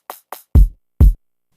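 Sparse beat intro: two short, bright rim shot clicks followed by two heavier low thumps from bass and a high-pass filtered kick drum, each hit distinct and separated by silence.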